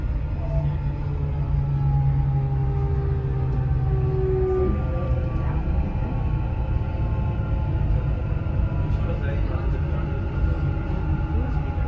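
Dubai Metro train running, a steady loud rumble of wheels and motor throughout with faint tonal whine rising and falling, heard from inside the carriage with no speech over it.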